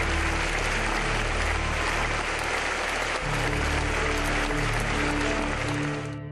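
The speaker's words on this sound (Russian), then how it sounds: "большого артиста, выдающегося музыканта, принято провожать аплодисментами" Audience applause for the musician, a sustained roar of many hands clapping in a large hall, loud and continuous from start to finish.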